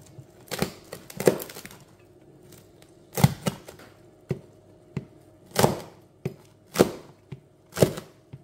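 A knife chops through food on a cutting board in about a dozen sharp, close thuds, irregularly spaced with some quick doubled strokes, with no talking.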